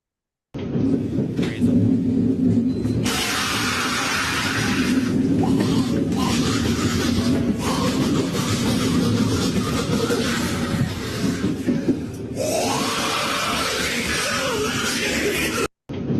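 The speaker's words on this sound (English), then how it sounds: "Let me play you a clip from the New York City subway last week." New York City subway recording: a loud, continuous rumble of a train with a man's screeching and yelling mixed into the din throughout.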